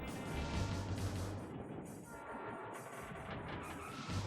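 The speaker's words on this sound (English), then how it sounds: "Look at the train." A train rumbles past in a 1990s arcade driving game, with a steady, loud mechanical roar and clatter and no talking.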